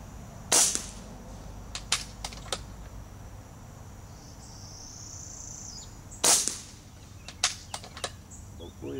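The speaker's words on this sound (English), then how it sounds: "Thing shoots like a dream, Gary." M-Rod air rifle fires two crisp, sharp shots a few seconds apart, each trailed by small clicks and handling noises, with faint insect-like chirping and low background hum between.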